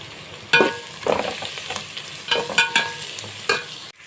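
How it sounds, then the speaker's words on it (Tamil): Onions sautéing with ginger garlic paste for chicken biryani hiss softly in a pan while a spoon scrapes and stirs in several distinct strokes, close and fairly loud, without talking. "இதுவும் நல்லா வதங்கட்டும்"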